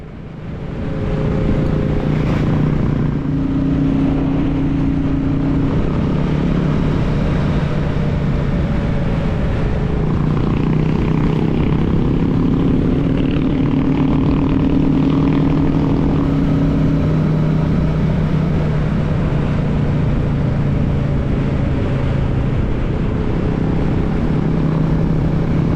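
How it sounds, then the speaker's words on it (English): Royal Enfield motorcycles riding on wet roads, a loud, continuous engine drone heard from the saddle with steady low thrum and shifting tonal hums, plus wind and road rush throughout. "lovely noise to sit behind these bikes"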